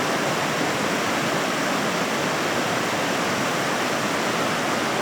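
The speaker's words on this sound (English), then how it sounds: "Here's the river." A river rushes in snowy Japanese country near snow monkeys, a loud, steady broadband roar of flowing water with no pauses and no talking.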